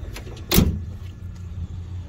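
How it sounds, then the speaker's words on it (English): A single solid thud of a 2021 Jeep Gladiator Rubicon pickup's tailgate shutting, close by, with a faint rattle after it against a quiet low outdoor hum. "Tailgate's very, very light to close."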